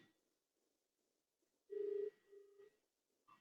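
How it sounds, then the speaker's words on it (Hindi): A phone rings while a call goes through to a mother's mobile, heard as a faint ringback with one long tone burst and a shorter follow-up, fairly quiet and distant. "दीपांशु आपकी मम्मी के मोबाइल पे फोन कर रहा हूं बेटा"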